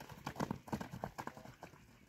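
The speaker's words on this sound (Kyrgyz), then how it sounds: "Баягы такасы жокко дагы могу бир аз коркуп чабып атат, тайып кетпесин." An unshod English-breed horse runs on bare ground, its hooves striking in a quick, rhythmic clip-clop at moderate distance, fairly faint.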